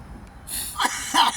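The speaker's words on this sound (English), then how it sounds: "with both of us, we're coughing now" A brief hiss of breath leads into two quick, raspy coughs close by, the second slightly stronger than the first.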